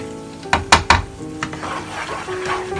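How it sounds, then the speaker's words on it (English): Yogurt and gram flour are mixed in a bowl, with a few sharp clinks of a spoon against the side followed by softer, irregular scraping and stirring. "You mix this all well."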